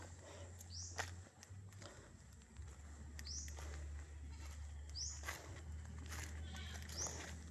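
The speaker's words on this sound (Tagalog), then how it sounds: "May mga kambing po." Several short goat bleats rise at intervals over a steady low hum and outdoor background noise on a lanzones farm, moderately distant.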